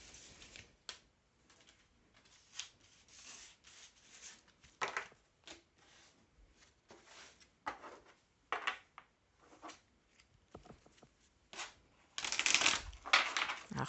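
Playing cards shuffled by hand before three are drawn, quiet rapid riffling and flicking with uneven papery bursts, ending in a louder flurry of shuffling close by.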